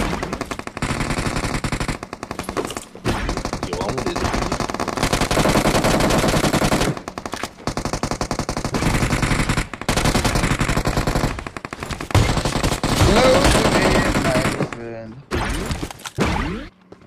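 Dense automatic gunfire rattles almost nonstop in a battle royale video game, in long loud bursts broken by brief pauses, with voices talking over the shooting.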